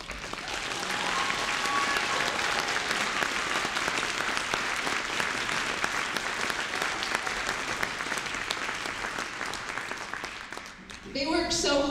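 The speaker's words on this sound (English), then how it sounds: "give them a round of applause." An audience at a Christmas concert breaks into loud, sustained applause that holds steady for about ten seconds and then fades, after which a voice begins speaking.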